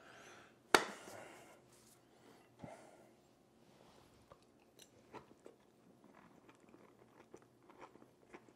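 A sharp, close crunch as a French fry is bitten, followed by quieter, irregular crunchy chewing.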